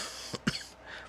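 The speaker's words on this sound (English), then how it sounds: "Pardon my coughing." A single person's cough, one short rough burst right after a softer throat sound, close to the microphone in a quiet indoor room.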